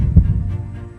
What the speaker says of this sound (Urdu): ہمارا جو دل ہے نا وہ بھی ایک ردم میں دھڑکتا ہے